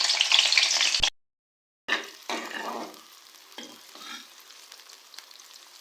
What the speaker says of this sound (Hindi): ऑयल गर्म है। अब मैं इसमें ऐड कर दूंगी एक लार्ज साइज़ का प्याज।